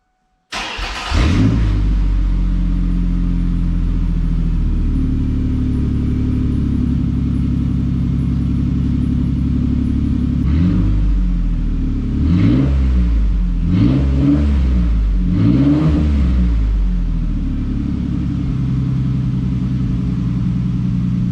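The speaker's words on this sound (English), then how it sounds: "fire it up at least once while the pipes are off just to hear what she sounds like" A Ford Ranger pickup engine cranks to life with its exhaust pipes removed and idles with a loud, raw, unmuffled rumble, then revs hard several times in short bursts before settling back.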